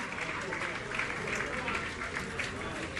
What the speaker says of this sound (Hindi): आप लोग जोरदार तालियों से एक बार ऐसे आर्किटेक्ट का सम्मान जरूर